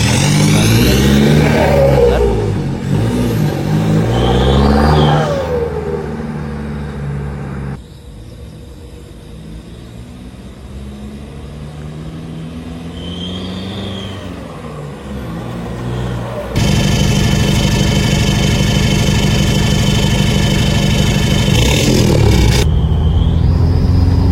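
A Toyota Hilux VNT turbo diesel with a full-system aftermarket exhaust revs and roars with a deep rumbling exhaust, drops to a quieter idle, then surges again into a sustained, droning high-rev blast.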